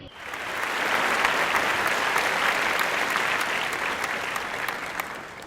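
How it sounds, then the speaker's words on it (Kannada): A seated audience at an awards ceremony claps to welcome guests onto the stage, a loud, dense, sustained burst of applause that swells quickly, holds, then tapers slightly. "ಅವರನ್ನು ಕೂಡ ವೇದಿಕೆಗೆ ಬರಮಾಡಿಕೊಳ್ಳೋಣ ನಿಮ್ಮ ಚಪ್ಪಾಳೆಯೊಂದಿಗೆ"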